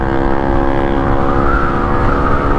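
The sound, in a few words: Honda PCX scooter with loud aftermarket exhaust pipe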